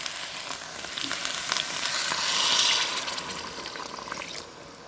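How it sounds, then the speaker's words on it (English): Water is poured into a simmering chicken tomato sauce in a cooking pot, a continuous bubbling sizzle and splash that swells briefly around the middle and then eases, with no voices. "I'm going to pour in more water"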